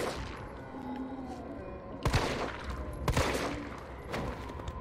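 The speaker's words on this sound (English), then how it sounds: "I love the sound of this gun." Gunfire from a handgun in the Resident Evil 3 remake, with sharp shots at about two, three and four seconds standing out over a steady game soundtrack and ambience.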